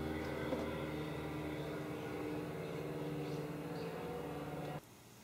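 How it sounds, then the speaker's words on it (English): A steady low drone of aircraft engines hums in the background, constant and moderately distant, before abruptly dropping away near the end. "Do you hear this? Planes, screaming kids."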